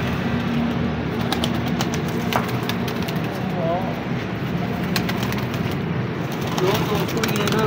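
Slate pigeons coo softly in a breeder's loft in winter, faint repeated calls under steady background noise and occasional clicks.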